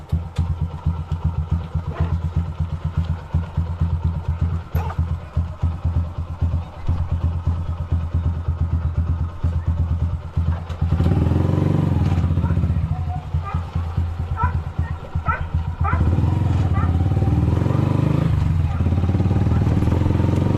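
Motorcycle engines putter and rev nearby, passing one after another over steady road noise, with a louder surge of engine sound in the second half.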